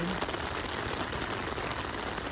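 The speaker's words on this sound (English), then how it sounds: "it's raining now" Steady rain hisses down on a Mother's Day outing, an even, dense patter on surfaces close by with no breaks.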